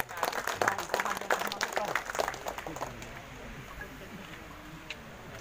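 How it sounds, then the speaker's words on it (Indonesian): A crowd at a Nahdlatul Ulama regional installation ceremony in Jakarta claps loudly for about two seconds, then the clapping fades to a low murmur of background noise. "Pak, Bu, tepuk tangan biar rame jagoan kita."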